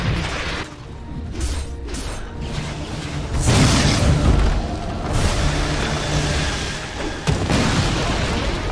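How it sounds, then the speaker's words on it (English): A tower crumbles in Dota 2, giving several loud, crashing booms with shattering debris over dense battle noise. The bursts come in uneven clusters across the whole stretch. "Radiant's bottom tower has fallen."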